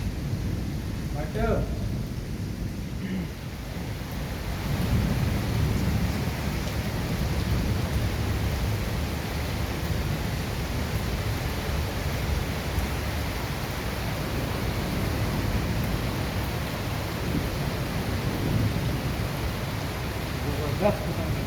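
Heavy rain pours steadily in Rawalpindi with low rumbles of thunder rolling beneath it, a dense continuous roar that stays loud throughout with brief sharper cracks near the start.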